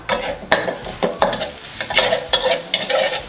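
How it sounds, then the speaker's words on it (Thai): Salted preserved radish stir-fried with sugar over low heat in a pan, close and loud, with rhythmic spatula scrapes and clacks against the pan over a steady sizzle. "เอาน้ำตาลทรายลงไปผัดกับไชโป๊เค็มนะคะ"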